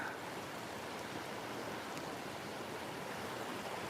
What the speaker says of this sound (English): raging water.